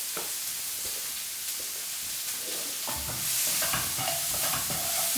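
Onions sautéing in a hot pan, being stirred over high heat while fish fry is prepared; steady sizzling and frying crackle with scraping stir strokes that grow louder and busier toward the end, no talking.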